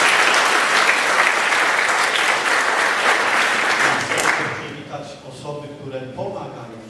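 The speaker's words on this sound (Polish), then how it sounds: "I dla nich wszystkich gorące brawo, proszę Państwa." Loud, sustained applause from a gala audience honoring volunteers, filling the room for about four seconds before thinning out as a voice begins speaking.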